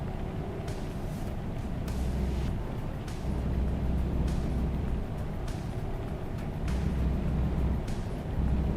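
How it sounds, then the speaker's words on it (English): Truck engine in American Truck Simulator running at a steady low drone, continuous and fairly loud throughout, with a deep rumble underneath and occasional hiss-like bursts; no talk. "The engine sounds a little low."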